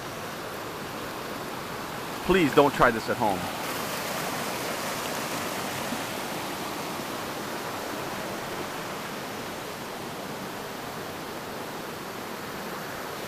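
Steady, even rush of flowing water beside a body of water in a Brazilian jungle, continuous and fairly loud throughout, with a short burst of speech early on.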